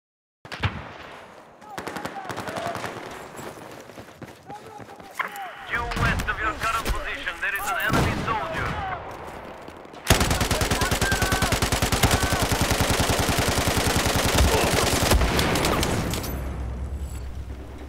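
Automatic gunfire in a multiplayer first-person shooter match, with an M4 rifle and knife play mentioned, comes in dense rapid bursts that grow louder and steadier in the second half, mixed with game effects and scattered voices.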